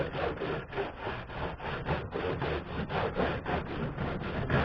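Steady back-and-forth scrubbing of a stiff scrub brush working over a surface outdoors during rinsing and cleaning, continuous rhythmic rasping strokes, close and moderately loud with no talking.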